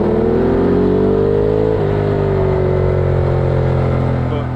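A Ducati Multistrada 1200 motorcycle ridden on a winding mountain road in Japan's Kantō region, its engine droning steadily and shifting pitch once mid-ride under heavy wind rush, close and loud.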